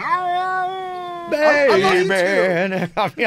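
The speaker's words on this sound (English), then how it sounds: "dude, that's just a cat meow" A cat meows in one long, steady, drawn-out call for over a second, then people talk and a voice sings over it, loud and close.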